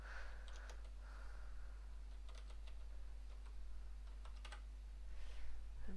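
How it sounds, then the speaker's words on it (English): Typing on a Maltron one-handed keyboard: a fairly quiet, irregular patter of key clicks, with occasional quick clusters of strokes over a low steady hum and no talking. "I'm actually typing what's on the screen"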